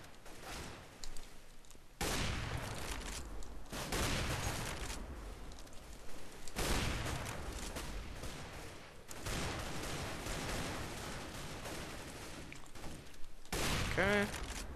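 Desert Eagle pistol fire in the Counter-Strike video game, heard as repeated sharp gunshot bursts and a dense exchange of fire across the round, fairly loud and close over game ambience.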